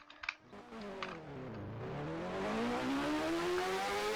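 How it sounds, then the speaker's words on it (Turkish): A high, whiny, mosquito-like motorcycle engine drone that dips then rises steadily in pitch as it revs, with a few faint clicks at the start. "Sivrisinek gibi motor sesi var"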